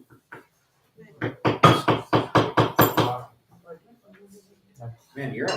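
A hammer or mallet whacks a leather stamping tool in a rapid, loud, evenly spaced run of about eight close knocks, with a few softer taps and people talking before and after.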